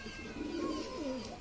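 A pigeon coos in a soft, low, wavering call that swells twice over a second and a half, close by and alone with no talk.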